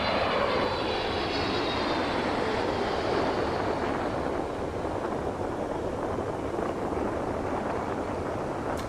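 A simulated Boeing 777 airliner lands in gusty wind in Microsoft Flight Simulator 2020. A loud, continuous jet engine roar blends with rushing wind noise and eases off gradually.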